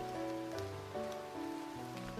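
Steady rain patters on a surface, a dense continuous hiss of drops that holds even and fairly loud throughout with no voices.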